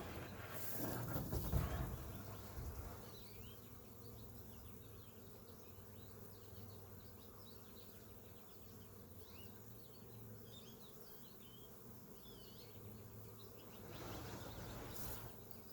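A dense, continuous hum of a honeybee swarm buzzing together around hive frames, quiet and steady, with a few louder rustling bumps at the start and end.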